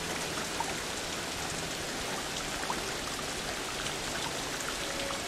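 Rain in the video game Ancestors: The Humankind Odyssey falls as a steady, dense hiss of drops, constant and fairly loud with no talk.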